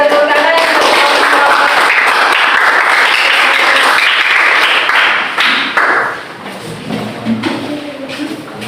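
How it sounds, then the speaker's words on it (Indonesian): Loud applause from a class audience during an Indonesian teaching session, a dense, sustained clatter of clapping that drops off sharply after about five seconds, leaving softer scattered claps and a murmur. "tepuk tangan"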